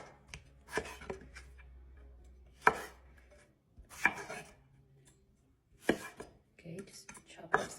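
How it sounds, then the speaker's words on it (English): A knife chops tomatoes on a board in a home kitchen, with scattered bursts of sharp close taps and short pauses between them, quiet otherwise. "Okay, just chop up small."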